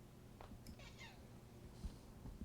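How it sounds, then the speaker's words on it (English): Ashira the pet cat gives a few short, faint meows close by indoors, spaced apart over a low background hum, with no speech. "Ashira cat, say meow."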